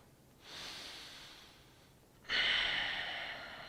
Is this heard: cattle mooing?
no